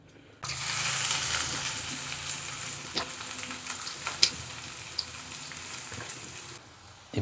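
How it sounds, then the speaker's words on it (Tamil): Onions and dried red chillies frying in hot oil in a pan, a steady close sizzle that starts abruptly, with a few sharp pops and spatula taps, then cuts off. "காஞ்ச மிளகா போட்டுட்டு நம்ம கட் பண்ணி வச்சுருக்க வெங்காயத்தை சேர்த்துக்கலாம்."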